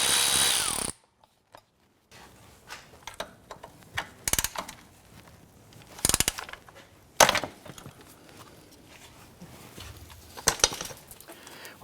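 10mm bolts on a 2004-2008 Acura TL are worked loose with a ratchet, giving irregular clicking bursts and sharp metallic knocks after a brief burst of noise at the start.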